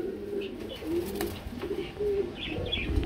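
Pigeons at a pigeon farm coo in low, overlapping rolling calls, close and continuous, with faint chirps and a brief flutter of wings.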